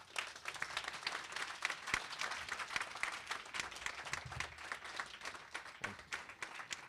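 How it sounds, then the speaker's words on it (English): Audience at a small city economic leadership summit applauding, a sustained round of clapping from a sizable crowd in an indoor hall, steady and fairly distant for several seconds. "I want you at this time to help give a big round of applause"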